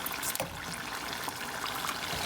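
Lumpia fry in hot oil with a steady, dense sizzle and fine crackling bubbles, fairly close and continuous, with no voices over it.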